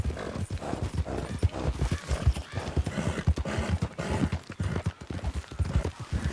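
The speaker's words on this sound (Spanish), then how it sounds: "Uf, el caballo." A horse in a roleplay video game clip-clops with a steady, close hoof rhythm, mixed with whinnying and neighing throughout.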